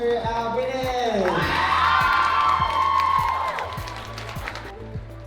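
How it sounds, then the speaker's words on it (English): A convention audience at an anime event claps and cheers for winners, with whoops and shouts rising over music with a thumping beat, loud and lively before easing off. "Big round of applause to our winners."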